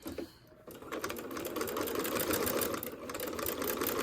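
A sewing machine stitches fabric around a door latch cover, running in a fast, steady mechanical whir close by after a short pause near the start, with no talking.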